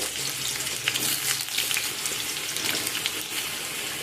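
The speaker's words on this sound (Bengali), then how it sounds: "প্রথমে আমি আলুগুলোকে নেড়ে নেব।" Potatoes fry in mustard oil with a steady close sizzle and a watery hiss, as they are stirred with soft scraping strokes.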